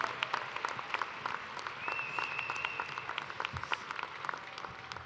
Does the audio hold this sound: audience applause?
yes